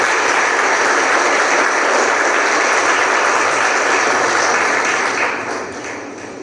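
A large audience at a formal gathering of African tax leaders in Morocco bursts into loud, dense, continuous applause, sustained for several seconds before tapering off at the end.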